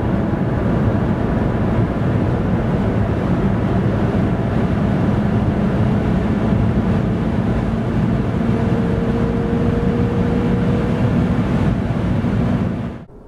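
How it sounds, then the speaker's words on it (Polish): A 2025 Hyundai Inster electric car with a 115 hp motor and 49 kWh battery accelerates from 90 to 140 km/h. Loud, continuous road and wind roar fills the cabin, a thin motor whine rises midway, and the sound drops away abruptly at the end. "A tak od 90 do 140 km na godzinę."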